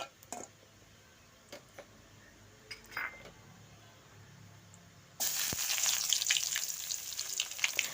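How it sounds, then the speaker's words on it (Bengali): Chopped onion hits hot oil with toasted cumin seeds in a pan for a Bengali egg bhuna, a sudden loud, steady sizzle after several seconds of quiet with a few faint clinks. "পেঁয়াজটাকে এখন নেড়ে চেড়ে নেব।"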